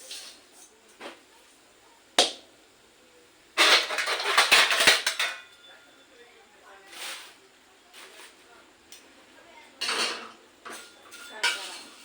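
Food roasting in a pan, heard as irregular metallic scrapes and clanks of a utensil against the pan, with a few louder bursts of clatter between quieter stretches.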